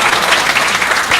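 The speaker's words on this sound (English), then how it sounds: "We should clap for the garland." Dense, loud applause fills a room at a devotional gathering as people clap in appreciation of a garland, a brief steady burst with no voices.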